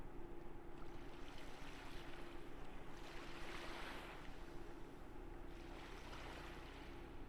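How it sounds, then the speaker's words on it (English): Ocean waves crash and wash against a ship in Hakuoki: Kyoto Winds, a steady surging rush of water with soft swells rising and falling, constant and moderately loud with no voices. "we listened to the endless movement of the ocean crashing against the ship"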